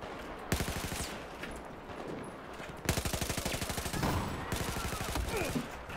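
Light machine gun in Battlefield 4 firing long rapid bursts, dense evenly spaced shots in sustained strings separated by short pauses, loud and close.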